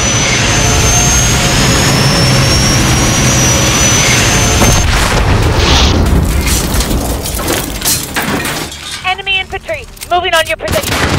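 A helicopter in Modern Warfare roars under fire, a loud jet-like engine drone layered with gunshots and booms, turning into sharper, choppier bursts of fire near the end.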